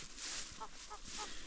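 Geese honk in a short series of three calls, close by and moderately loud, over outdoor background noise on a frosty morning as a small flock is herded along.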